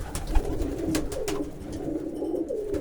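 Pigeons coo nearby in soft repeated throaty calls, with faint background movement and no talk.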